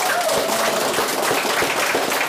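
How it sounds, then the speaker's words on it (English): Applause from an audience at a live fashion-styling event, a steady wash of many hands clapping for a couple of seconds at moderate level, with a faint voice or tone briefly audible in the background. "A round of applause to our amazing guests tonight."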